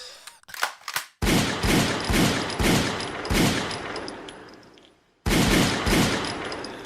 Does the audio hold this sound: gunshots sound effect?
yes